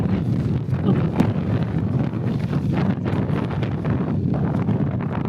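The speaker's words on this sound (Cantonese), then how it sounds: "真係好大風。" Strong wind roars and buffets the microphone in a continuous, gusty rumble near the summit of Mount Fuji.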